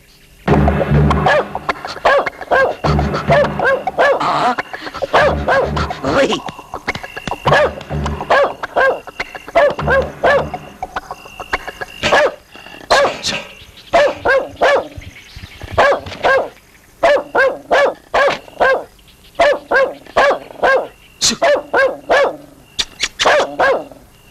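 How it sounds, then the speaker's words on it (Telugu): Dog barking loudly and close in a movie scene, a long run of repeated barks, dense at first, then spaced into sharp separate bursts with short gaps between them. "ఏంటి కుక్క అక్కడ అరుస్తుంది?"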